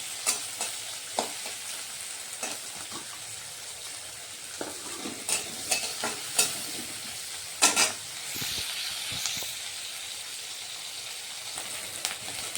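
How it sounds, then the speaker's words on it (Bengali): Prawns frying in oil in a pan, a steady close sizzle and hiss with scattered stirring knocks and scrapes throughout. "চিংড়িগুলোকে একটু সামান্য ভেজে নিতে হবে।"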